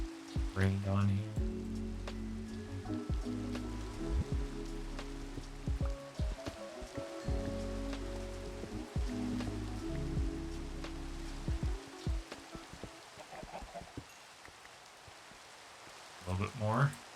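Steady Minecraft rainfall hisses softly throughout, under a low droning game music bed with scattered faint clicks and pops.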